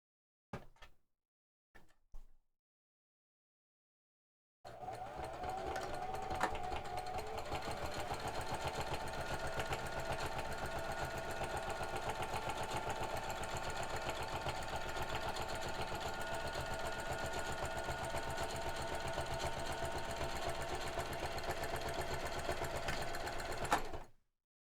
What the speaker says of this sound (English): now I'm gonna sew these together just on two sides though